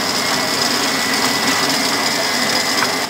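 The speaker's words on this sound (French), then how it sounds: "Je commence à mélanger." An electric mixer whirs steadily through brioche dough with sugar and yeast, a constant high motor hum with a light rhythmic churn and no speech.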